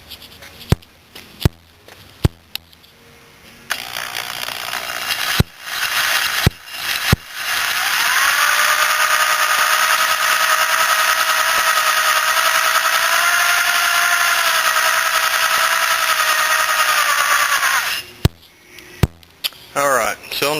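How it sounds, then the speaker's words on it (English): A power-drill cylinder hone works inside a Yamaha Badger engine cylinder, a loud continuous whirring grind of about ten seconds, framed by clanks and handling clatter before and after. "And I'm going to hone it."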